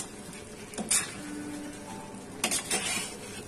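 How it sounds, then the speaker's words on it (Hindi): A spoon stirs mutton korma with coarsely ground onion in a pot over a medium flame, with soft sizzling and a few sharp scrapes and clinks against the metal. "चलिए अब इसमें हम सारी चीजों को अच्छी तरह से मिक्स कर लेते हैं।"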